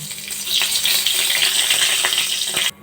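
Cardamom pods, a cinnamon stick, cloves and a dried red chilli fry in darkened oil left from frying pointed gourd, a loud, close, continuous sizzle and crackle that cuts off abruptly at the end.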